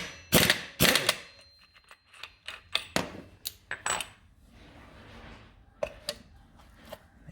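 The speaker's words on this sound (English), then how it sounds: "So as soon as you undo that nut, that clutch is going to want to fly up in the air." Clutch nut being undone on a Piaggio Zip scooter fitted with a Malossi 70cc kit, a close series of sharp metallic clanks and ratcheting clicks, irregular and bunched, with quieter rattling between.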